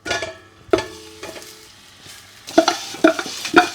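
Lamb meat drops into a large pot of hot ghee with whole mastic grains and sears, giving sharp sizzling bursts and clanks of stirring, with quieter gaps between.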